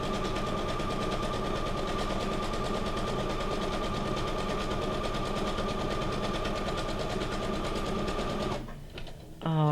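A sewing machine stitches fabric for junk journal ephemera, running in a loud, steady, fast mechanical whir for about nine seconds, then stopping abruptly with a few clicks.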